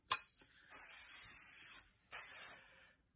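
A small click followed by two close, sustained hissing sprays from an aerosol hairspray can, the first longer than the second, with silence between.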